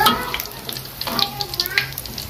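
Tofu fries in hot oil, crackling and popping in quick, irregular sputters over a soft steady sizzle, close and fairly loud, with no one talking.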